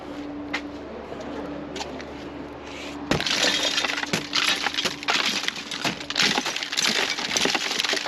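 Windows smashed with a sledgehammer, a sudden loud crash followed by a dense spray of breaking glass, tinkling shards and scattered clinks at close range, after a quieter stretch with a steady hum.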